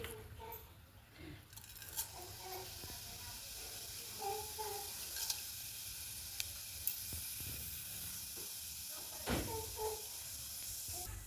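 Cumin seeds hit hot oil in a pan for a village-style ridge gourd dish, producing a faint, steady frying hiss with occasional light clinks and soft pops close by.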